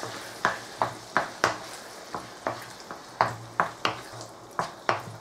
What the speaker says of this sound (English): what we'll be doing is giving that all a stir.